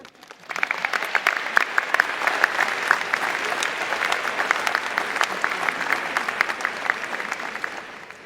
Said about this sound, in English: Applause is in order.